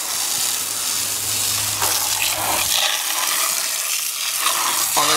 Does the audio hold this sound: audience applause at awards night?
no